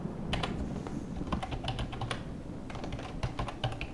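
Computer keyboard keys clatter in quick, uneven bursts with a few sharper mouse clicks mixed in, close and fairly quiet, while a Minecraft home-decoration build is edited.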